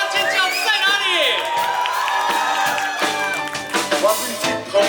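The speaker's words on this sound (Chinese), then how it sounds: "掌声不够热烈，再加点尖叫声会更好。" A concert audience cheers, whoops and claps in a dense continuous roar that lasts throughout, with music and scattered shouts mixed in.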